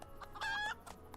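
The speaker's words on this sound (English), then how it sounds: "The chicken's excited." A single chicken in the video game Final Fantasy XIV gives a short, excited cluck, a bright squawking burst in the middle of a quiet, brief moment.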